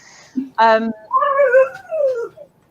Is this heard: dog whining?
yes